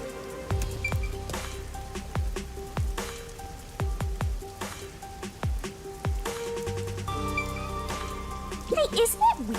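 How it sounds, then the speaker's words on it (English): Rain falls steadily over a video game city, a constant patter of drops with sharper splashes and thuds scattered throughout, set against a low ambient game soundscape. "isn't it weird how it's not flooded, given how it's always raining here?"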